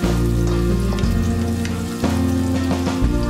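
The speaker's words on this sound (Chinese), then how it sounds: "起锅烧油，油热后放葱蒜翻炒" Scallions and garlic hitting hot oil in a wok while making shredded potatoes, a loud, dense crackling sizzle close up, with faint clinks of stirring and no voices.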